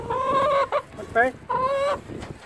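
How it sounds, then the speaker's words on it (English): Chickens cluck close by in a few short, nasal bursts with brief pauses between calls. "greedy old chickens"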